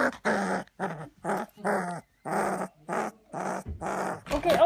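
A very young Rottweiler puppy gives a run of close, repeated growly barks and yips, each a short burst separated by brief pauses, loud and alone with no talk.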